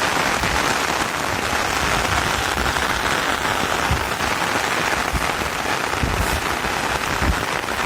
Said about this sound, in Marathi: लय पाऊस आला